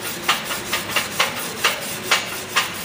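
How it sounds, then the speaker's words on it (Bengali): A MIG weld joint on a practice plate being cleaned between passes, with a steady series of about seven rhythmic rasping scrapes of a brush or file, close and fairly loud. "প্রত্যেক পাসের পরে জবটা সুন্দর করে পরিষ্কার করে নিতে হবে।"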